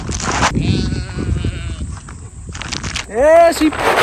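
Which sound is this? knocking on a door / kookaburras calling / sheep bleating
sheep bleating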